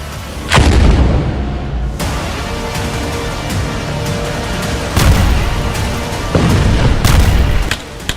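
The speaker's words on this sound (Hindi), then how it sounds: "गाजा में हर घंटे हो रही ताबड़तोड़ फायरिंग ने हमास के लड़ाकों के होश उड़ा दिए हैं।" Heavy artillery fire and explosions in Gaza boom repeatedly in a loud, dense rumble, with sharp blasts landing every few seconds over continuous roaring noise and no talking.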